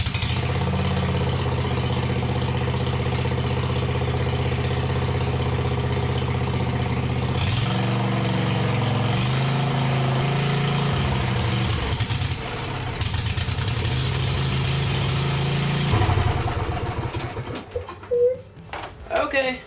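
A John Deere D140 lawn tractor engine runs steadily after a carburetor cleaning, a loud close drone that shifts pitch a few times and then cuts out into clattering handling noises near the end.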